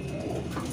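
Soft, low pigeon cooing rumbles steadily through the short moment, close by, with no talking.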